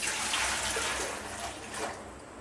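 Water pours briefly into a steamer pot while making kozhukattai, a close splashing rush that tapers off after a couple of seconds.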